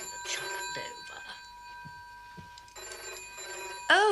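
An old-fashioned telephone bell rings in bursts with steady pauses between rings, moderately near in a quiet room, with brief voices and movement between the rings.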